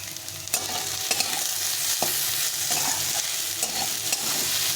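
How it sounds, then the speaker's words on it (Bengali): Potatoes and onions frying together in a pan with salt and turmeric, a steady close sizzle broken by several scraping stirs of a spatula at irregular intervals, with no voices. "পেঁয়াজটাও একসঙ্গে ভাজা হয়ে যাচ্ছে সুন্দরভাবে"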